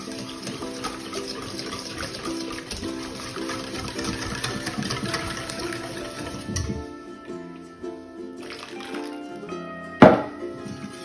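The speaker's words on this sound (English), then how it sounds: "here I am still blending, trying to get rid of those lumps." Homemade finger paint mixture being blended to break up lumps, a steady mechanical whir with sloshing liquid that runs for several seconds, then cuts out and leaves a brief clatter.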